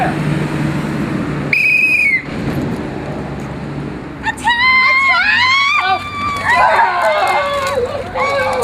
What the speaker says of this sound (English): When I blow the whistle, turn around and fire